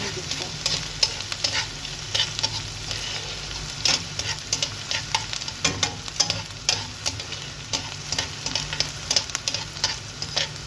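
Sliced onion frying in a pan with steady broadband sizzle and repeated sharp scraping stirs from a utensil, close and fairly loud throughout, no talking.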